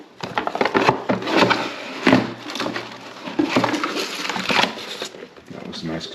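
Cardboard and foam packaging pulled out of a Minisforum MS-01 mini PC box, with repeated close crinkling, scraping and rubbing bursts of rough material handling.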